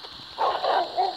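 A dog in the Stray Dog Simulator video game gives three short, quick barks or yips, close and fairly loud over a steady background hiss.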